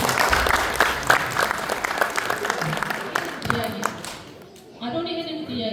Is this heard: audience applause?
yes